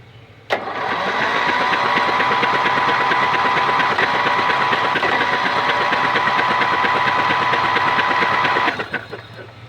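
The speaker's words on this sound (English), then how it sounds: "I want to see if the starter will turn the motor now" A riding lawn mower's starter cranks the engine with the spark plugs removed and no compression, spinning freely in one steady, fast whirring drone for about eight seconds, close and loud, starting and stopping abruptly.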